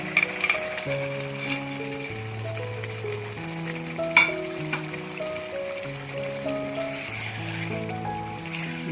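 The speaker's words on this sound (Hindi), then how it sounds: "अब मैं इसमें कबाब शामिल कर दूँगी। प्याज के साथ" Chicken kababs with onions go into a pan of spiced gravy and are stirred, a soft sizzle and scraping running quietly under steady background music.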